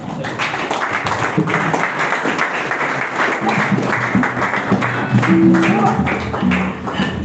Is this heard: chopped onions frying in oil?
no